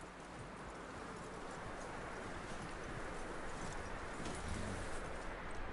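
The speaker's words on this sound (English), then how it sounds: "That looks like a decent horse. You should keep him. Get that horse hitched." Horse hooves in the Red Dead Redemption 2 video game, a faint, continuous rhythmic clopping blended into steady outdoor ambience.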